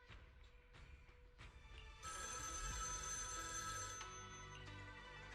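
A telephone rings with a shrill electronic ringtone that bursts in loud and steady over faint background sounds and continues for a couple of seconds before easing slightly.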